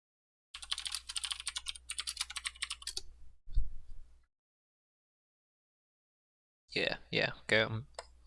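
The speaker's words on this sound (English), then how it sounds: "I'm typing midstream" Bursts of rapid clicking on a computer keyboard, close and crisp, stop for a pause with a brief thump, and then a person speaks.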